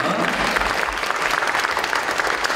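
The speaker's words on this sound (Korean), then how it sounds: "큰 박수로 축하해 주시기 바랍니다." An audience at a school's 133rd anniversary ceremony applauds an alumni award, dense and loud clapping filling the hall without pause.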